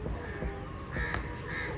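Crows caw sharply several times close by at a busy outdoor paratha stall where breakfast dough balls are being prepared, heard over steady street and crowd background noise.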